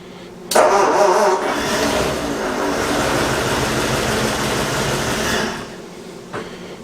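A classic car engine cranking with the choke in: a steady rapid whirring starter churn that runs for about five seconds without catching, close and loud, then stops, followed by a brief faint clunk.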